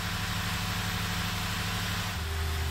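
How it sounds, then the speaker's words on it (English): A car engine idles steadily in a workshop after a throttle body cleaning, with a constant low hum and rumble whose pitch settles slightly lower near the end. "this is approximately after 5 minutes of idling here in the shop"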